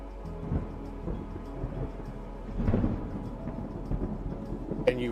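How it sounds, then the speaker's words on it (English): A low, continuous thunder rumble rolls on with steady rain behind it, swelling partway through and staying dense with no voices. "you hear thunder."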